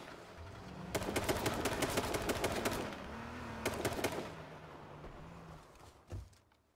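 Gunfire in a shooter video game: two dense bursts of rapid automatic shots, the first lasting about two seconds and the second shorter, then a single heavy thump near the end, with low game ambience throughout.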